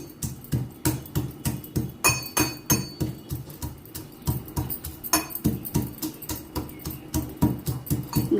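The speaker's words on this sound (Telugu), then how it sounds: "కచ్చా పచ్చగా దంచుకోవాలి." Small garlic cloves are pounded coarsely with a pestle, producing a steady run of sharp, rhythmic thuds and clinks, roughly two to three strikes per second, close and fairly loud.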